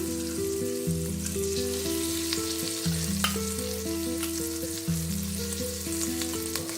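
Ground spice masala for dum aloo fries in hot oil with cumin, giving a steady, close sizzle and crackle throughout, with no one speaking.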